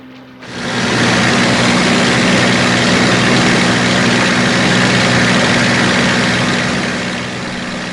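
A Spitfire's piston aero engine bursts into a loud, steady, close roar that holds evenly for several seconds and then eases slightly toward the end.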